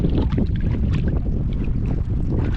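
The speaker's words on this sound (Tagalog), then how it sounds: "Parating na isang bangka mga bay." A fishing boat approaches over the sea. A low rumbling engine and wind buffeting the microphone dominate, with water noise and no clear speech.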